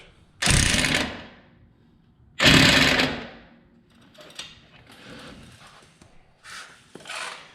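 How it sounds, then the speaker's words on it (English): Two loud, rattling bursts from an impact gun hammering a pin in during a Jeep Wrangler tie rod replacement, followed by quieter tool noises and shorter buzzing bursts nearby. "now we're gonna try and draw this pin in a little bit with the impact gun"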